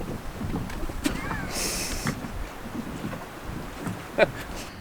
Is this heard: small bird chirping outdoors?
no